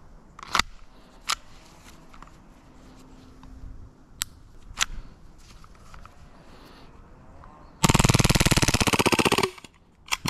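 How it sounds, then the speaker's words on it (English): An airsoft gun fires a full magazine on full auto in one loud, dense, rapid burst lasting under two seconds, preceded by scattered sharp clicks and handling noises at close range. "we can't skip a mag of full auto"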